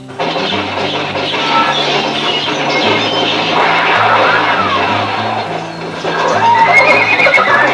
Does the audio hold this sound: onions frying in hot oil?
no